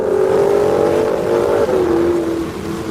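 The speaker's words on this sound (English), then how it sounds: "It included exactly the engine sounds and wave sounds I wanted." An AI-generated motorboat engine drones loudly and close, its pitch dipping partway through, over a steady rush of water and waves.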